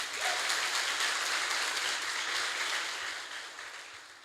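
Congregation applauding during a church sermon, a dense wash of clapping that is strongest at first and gradually tapers off.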